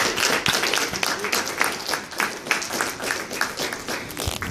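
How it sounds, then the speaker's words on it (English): A student audience applauds the candidates at the end of a campus presidential debate, a moderately loud patter of many hands clapping throughout, with some crowd murmur mixed in. "Let's go ahead and give our presidential tickets a round of applause."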